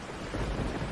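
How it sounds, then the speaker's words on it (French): Steady rain hisses with a low rumble of thunder rolling underneath in the video game Resident Evil 4 HD, a dense continuous wash of sound without voices. "La pluie, l'orage, c'est pas mal."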